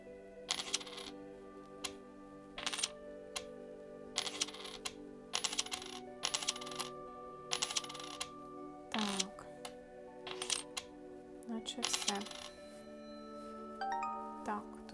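Coins clink and tap as they are shifted around in the puzzle game A Little To The Left, a series of short, crisp metallic clicks in bursts, fairly close, with a brief musical chime near the end and no talk over them.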